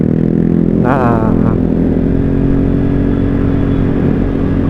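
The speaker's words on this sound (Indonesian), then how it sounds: "umak lihat yang ini kan, itu juga knalpot racing" Motorcycle fitted with a loud racing exhaust on a morning ride, a constant close engine drone with a brief rising rev in the middle and a voice briefly heard over it.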